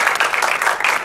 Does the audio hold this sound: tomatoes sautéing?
no